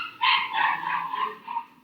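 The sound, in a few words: puppy barking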